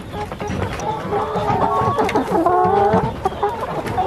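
Kuroiler dual-purpose chickens clucking on a farm, a busy, close flock of overlapping clucks and squawks with steady background noise.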